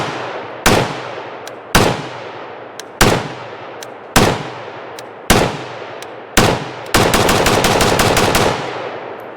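A Zastava ZPAP M72 RPK rifle is fired on a range, with six loud single shots at roughly one-second intervals followed by a rapid string of about ten quick shots that empties the magazine.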